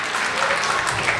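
An audience at a Kannada school's annual day event in Ottawa claps together in a brief, dense burst of applause, steady and fairly loud, with no break.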